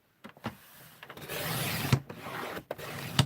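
A paper trimmer slicing through thick cardstock, with a few short clicks and taps, then a sustained scraping rub of the blade and a couple of sharp knocks, close and alone.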